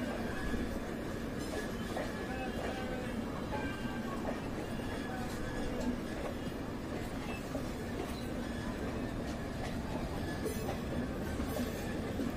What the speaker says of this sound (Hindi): प्लेटफॉर्म से दोनों ट्रेन बाहर हो चुकी है